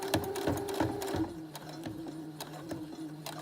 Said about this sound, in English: I'm just choosing to turn under my raw edges before I sew it down.